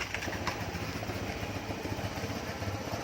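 A Suzuki Spin scooter with a sputtering, stumbling engine that won't take throttle runs at idle, a dense, rough mechanical drone heard close and loud throughout, with faint bird chirps in the background.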